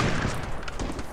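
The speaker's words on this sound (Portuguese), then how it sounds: "tiro, dois tiros, tiro, tiro, tiro" Video game gunfire cracks out in a dense, rapid burst of overlapping shots, loud and close, filling the whole short moment.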